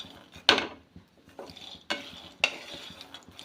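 Roasting peanuts are stirred in a pan with a spoon, making a few sharp scraping strokes spaced irregularly, close and fairly quiet over a faint background.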